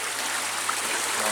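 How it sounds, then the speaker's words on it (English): River water rushes steadily through sluices on the Itchen Navigation at Bishopstoke, a continuous close hiss of flowing water with no pauses. "one of the many sets of sluices along the river that control the flow"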